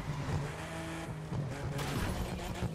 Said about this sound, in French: très bon freinage comme vous avez vu